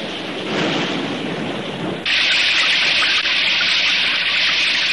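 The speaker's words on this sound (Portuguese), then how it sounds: "E a água do prédio da capital escoou sem problemas para o mar" Cartoon water gushing and draining toward the sea, a broad rushing wash that abruptly turns brighter and hissier halfway through, loud and steady with no voices.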